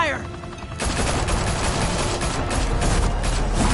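Rapid gunfire erupts in The Batman Telltale Series video game, a dense, loud fusillade of overlapping shots that continues steadily after a brief lead-in, with a voice calling out near the start.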